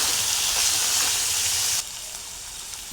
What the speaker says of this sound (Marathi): यामध्ये भिजवलेली शेंगदाणे आणि डाळ टाकून घेणार आहे